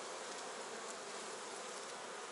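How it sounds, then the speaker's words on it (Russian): Dense, steady buzzing of many honeybees crowding close around a hive frame, continuous and fairly loud with no talk. "Пчелки рядом."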